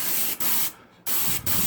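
Spray paint hisses onto a model wing in candy red, in four short, loud bursts with brief silent gaps, one of them longer.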